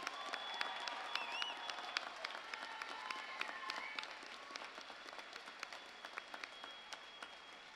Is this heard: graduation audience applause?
yes